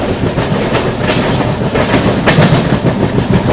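The 12141 Patliputra SF Express runs on rails toward Patna Junction, a loud, steady rumble with rhythmic wheel clatter over joints, heard from on board with no talking.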